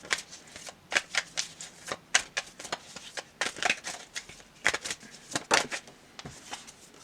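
Tarot cards shuffled by hand up close, a rapid series of crisp papery riffles and slaps repeating over several seconds.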